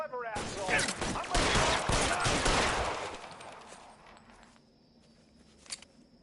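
Gunfire in the video game L.A. Noire, a dense burst of rapid shots for about three seconds that tails off into quieter background noise, followed by one faint later shot.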